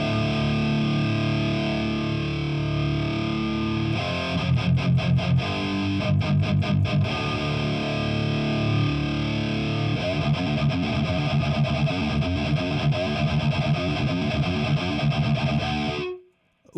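Distorted metal guitar goes through a compressor in AmpliTube 4, heavy chugging riffs with fast palm-muted bursts and sustained power chords, loud and close, ending in a sudden cutoff.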